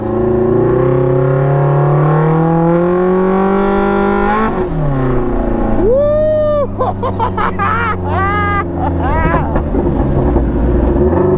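A supercharged 450 HP Pro R engine roars loud and close through sustained revs, with whining pitch sweeps rising and falling midway as the throttle is blipped repeatedly.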